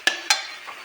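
Masala spices frying in oil for a Bengali eggplant and paneer dish: two sharp scraping strikes of a spoon against the pan over a soft, steady sizzle, close and brief, with no voices.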